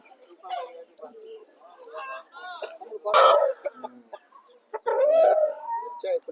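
Chickens cluck and a rooster calls in short, irregular bursts nearby, mixed with other farmyard fowl and people talking in the background.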